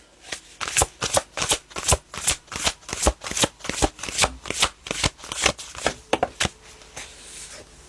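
Tarot cards shuffled by hand at close range, a long run of crisp, rapid riffling bursts in a steady rhythm with no talk.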